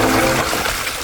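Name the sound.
3D-printed tire splashing through water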